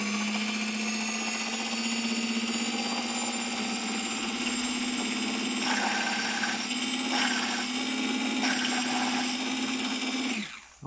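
A drilling machine fitted with a 9 mm bit runs steadily with a loud, sustained motor whine for several seconds, its pitch wavering slightly under load before it spins down at the end.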